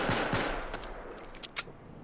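A Battlefield 4 pistol firing rapidly, a string of quick sharp reports blurring together at moderate volume, with a few crisp shots near the end.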